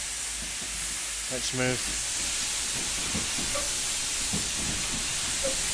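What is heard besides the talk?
steam hissing from open cylinder cocks of Stroudley A1 Terrier, train simulator video game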